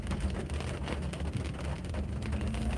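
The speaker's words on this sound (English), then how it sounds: "And it's raining, which is weird." Steady rain falls outdoors near a guard house during a tropical storm, a dense continuous hiss with low rumbling texture, fairly loud and unbroken, no voices.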